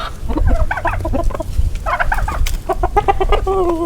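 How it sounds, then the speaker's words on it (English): Chickens being let out of their coop, clucking and chattering in quick irregular bursts close by, several birds overlapping at times with a steady low background. "Let the chickens out."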